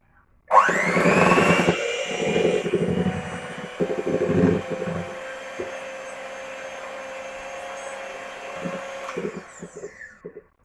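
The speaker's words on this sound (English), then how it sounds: "All right, I'm gonna mix this on medium speed." An electric hand mixer whirs on medium speed through pancake batter, starting with a sharp spin-up then holding a steady mechanical whine with intermittent rattling knocks of the beaters against the bowl.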